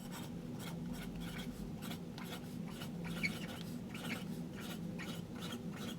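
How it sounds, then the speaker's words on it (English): Steady scratching of a fountain pen nib moving across Daiso Japanese notebook paper, repeated short strokes with faint squeaky edges, close and continuous with no talking. "I noticed kind of a squeaking a little bit with the nib on the paper"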